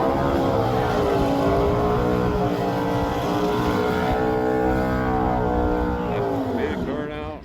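A drag racing motorcycle does a burnout at Byron Dragway, a loud, sustained, buzzing engine roar at high revs that wavers slightly and cuts off abruptly at the end.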